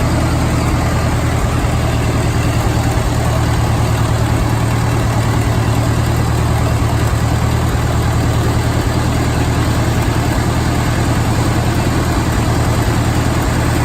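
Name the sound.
Farmall M Diesel tractor engine running on gas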